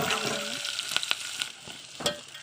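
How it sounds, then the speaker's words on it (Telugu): Cumin and mustard seeds crackle and sizzle in hot oil, a bright hiss with several sharp pops and spoon stirs, close and fairly loud with no voices. "రెండు రెండు పావుల ఆయిల్ పోసుకోవాలి జీలకర్ర వేసుకోవాలా ఆవాలు వేసుకోవాలా"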